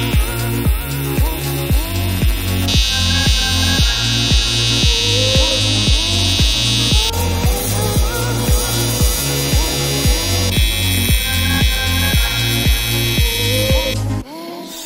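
PrimeWeld 225X AC TIG welding aluminum at 80 to 100 hertz: a loud, continuous buzzing arc with a regular pulsing rhythm and high-pitched tonal whine throughout, cutting off abruptly at the end.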